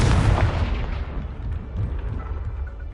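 A fiery spell explosion in the Hogwarts Legacy video game: a loud, deep booming blast that rolls and rumbles, then fades over a couple of seconds.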